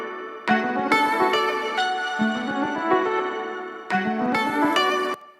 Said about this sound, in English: And then we have the B section lead tracks